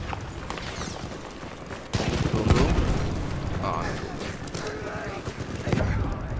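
A grenade goes off in the World War I shooter Battlefield 1: a sudden loud blast lands about two seconds in, then rumbling battle noise and scattered gunfire carry on underneath, with another burst near the end and voices talking over it.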